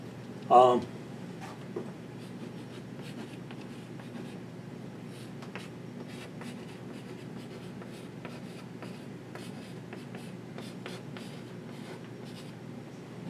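Pen or pencil writing by hand on paper while a sine graph in radians is worked out, a steady faint scratching throughout with one louder knock near the start and a person talking over it.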